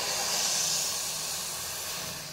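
Boiling water is poured into a bowl, making a continuous close rushing hiss that holds steady and fades slightly at the end.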